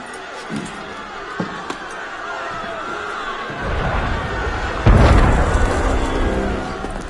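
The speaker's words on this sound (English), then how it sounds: "That was cannon fire." In Assassin's Creed Unity, a few scattered pops early on, then a low rumbling cannon boom swells in and a second heavy blast hits, rolling on with distant crowd-like noise.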